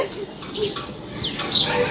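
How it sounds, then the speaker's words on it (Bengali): Soft pigeon coos come in short bursts from pigeons on a tin roof, fairly faint, with a few brief chirps and scuffling sounds nearby. "ওই তো কবুতরগুলা পাশের বাসার কবুতরগুলা টিনের চালে খেলাধুলা করতেছে"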